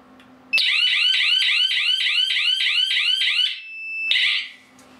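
A wireless home security system's 140-decibel alarm siren blares very loud and close with a fast, piercing warble. It runs for about three seconds, cuts off briefly, then bursts back before stopping.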